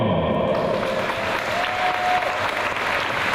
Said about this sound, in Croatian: Pozdravimo ih velikim pljeskom!